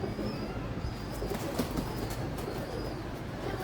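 Pigeons flap and coo faintly in a steady, quiet outdoor wash, with a few soft wing flutters and thin calls drifting in the distance and no voices.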